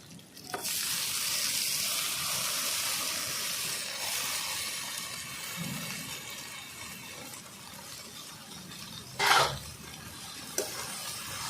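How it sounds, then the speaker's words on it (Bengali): Chopped jute greens are tipped onto prawns frying in a pan and stirred in, giving a soft, steady sizzle with a brief louder scrape or splash near 9 seconds, quiet and close, with no talking. "এইবার আমি কুচিয়ে রাখা শাকটা দিয়ে দেবো"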